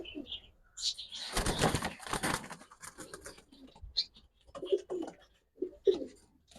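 A strong racing pigeon flaps its wings hard in a loud close burst of whirring beats, then soft coos and scattered rustles follow while people talk nearby.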